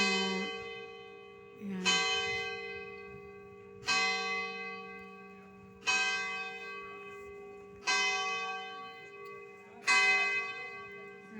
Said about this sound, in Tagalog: Magsona na yung kampana.